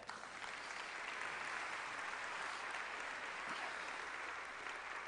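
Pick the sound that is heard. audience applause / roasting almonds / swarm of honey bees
audience applause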